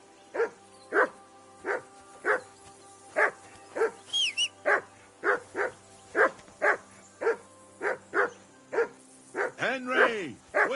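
A dog in a medieval game setting barks repeatedly in a steady rhythm, loud and close, about a dozen barks with a brief high whine partway through and a whimpering yelp near the end.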